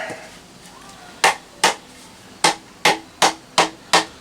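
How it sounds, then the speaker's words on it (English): Hammer striking a wooden planter in a series of seven sharp, close knocks, spaced unevenly and then quickening toward the end, over quiet background. "A little bit of a hammer there, and voila, we got side number 2 done."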